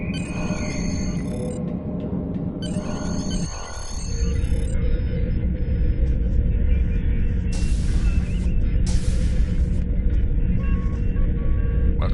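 A turbo lift ride aboard a starship in the Star Trek Online game: a steady mechanical hum and low rumble with electronic chirping tones and whooshing bursts, continuous and fairly loud.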